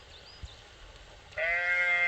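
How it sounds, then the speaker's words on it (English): A sheep near Slippery Stones Bridge gives one clear, sustained bleat after a quiet outdoor stretch, fairly close and loud over the soft background. "A sheep coming over Slippery Stones Bridge."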